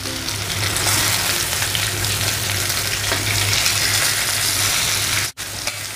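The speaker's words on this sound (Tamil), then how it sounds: "மீடியம் ஃப்ளேமில் வச்சு ஃப்ரை பண்ணிக்கோங்க." Mackerel fish fry in hot oil with curry leaves on a medium flame, a loud, close, steady sizzle and crackle with brief stirring clatter near the end.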